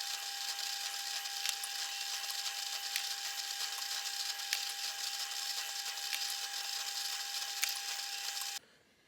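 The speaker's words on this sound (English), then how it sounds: "having finished drilling I've drilled the little countersinkers into the sides of the keys" Steady high-pitched whine of a drill countersinking holes in wooden marimba keys, continuous and close for several seconds before cutting off abruptly.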